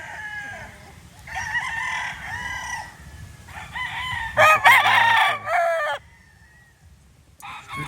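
A white-legged Boston Millionaire gamefowl rooster crows repeatedly at close range, its harmonic calls rising and falling over brisk farmyard clucking, with louder, harsher crows near the middle and a short pause toward the end.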